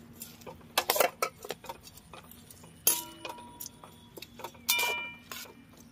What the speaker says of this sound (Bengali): এবার ভালো করে নাড়ি চাড়িয়ে এই চিনি রসটাকে শুকনো করে নেব।